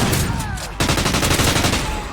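Rapid bursts of gunfire from an Activision video game, loud and close, with a dense run of repeated shots after a brief lull and a faint whistling ricochet earlier on.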